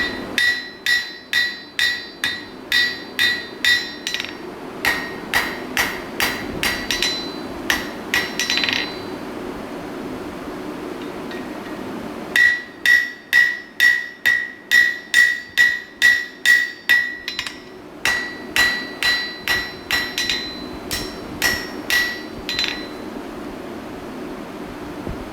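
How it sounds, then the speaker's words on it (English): A set hammer strikes hot metal during blacksmith forging on a castle-themed piece, giving sharp metallic clanks in quick rhythmic bursts with short pauses between runs, loud and close, with no talking. "Maybe I'll be really silly and grab a set hammer at some point."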